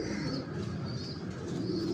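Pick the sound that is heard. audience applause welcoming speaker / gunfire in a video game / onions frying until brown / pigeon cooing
pigeon cooing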